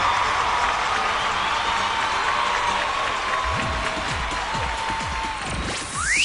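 A stage-show audience claps and cheers in welcome of judge Kalpana, a dense, steady wash of applause filling the whole stretch before tapering slightly near the end.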